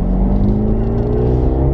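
A Mercedes-AMG GLB 35 four-cylinder SUV pulls hard under acceleration, a loud, steady engine drone heard from the cabin with the pitch climbing smoothly as the revs rise.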